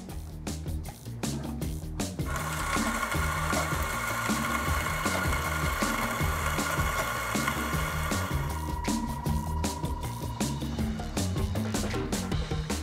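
A Victoria Arduino Mythos 2 coffee grinder running steadily, with a dense whirring motor drone and gritty crackle of beans being ground, close and continuous, with sharp clicks at the start and end.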